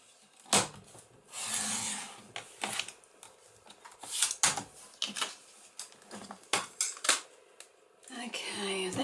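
A paper trimmer slices through paper sheets during junk journal crafting, with a series of sharp close clicks and short scraping slides at irregular intervals.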